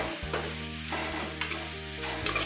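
Tomatoes and onion pieces cook in a covered pan for a cucumber and dried fish curry. A low, constant sizzle sounds close by, with a few soft bumps and spoon scrapes.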